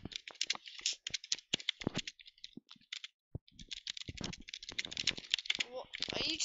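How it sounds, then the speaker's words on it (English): Rapid, uneven clattering on a computer keyboard as keys are jammed, bursts of loud clicks with short pauses, close to the microphone, with a voice talking in between. "Are you just like jamming on the keys?"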